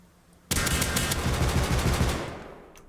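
LR-300 assault rifle with a muzzle boost in the game Rust firing a sustained automatic burst, a loud continuous rattle of rapid shots that starts abruptly and tails off with fading echo.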